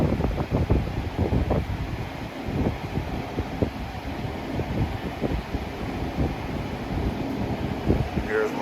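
A Lasko Pro Power box fan, model B20548 from 2021-22, running with a steady, breathy whoosh of moving air close by, with a faint rumble and slight variation in level throughout.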